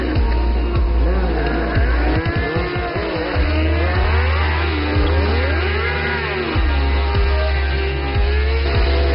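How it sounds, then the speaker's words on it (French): Cars and motorcycles drifting and performing stunts, engines revving and whining up and down in pitch while tires squeal repeatedly, loud and close throughout, with a narrator speaking over it. "Spécialiste des drifts et autres cascades à moto et voitures"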